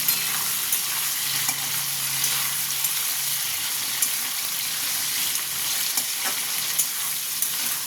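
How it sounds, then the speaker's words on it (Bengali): Prawns with browned onions fry steadily in a pan for a chingri kachur dum dish, a continuous broadband sizzle with light stirring clicks, close and even, with no voices. "চিংড়ি মাছটা দিয়ে একটু ভালো মতন ভেজে নেব।"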